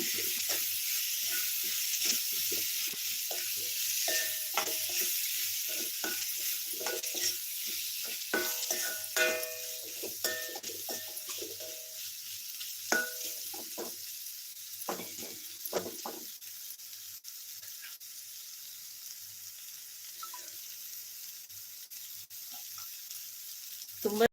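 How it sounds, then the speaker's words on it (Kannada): Soaked dry stick fish frying in a pan with oil, a steady close sizzle broken by repeated scraping and clattering stirs that thin out toward the end. "ಇವಾಗ ನಾನು ನೆನೆಸಿಟ್ಟಿದ್ನಲ್ಲ ಕಡ್ಡಿ ಮೀನು ಅದನ್ನು ಇದಕ್ಕೆ ಹಾಕ್ಕೊಳ್ತಾ ಇದ್ದೀನಿ ಈಗ ಹಾಕ್ಕೊಂಡು ಫ್ರೈ ಮಾಡ್ಕೊಳ್ಳೋಣ"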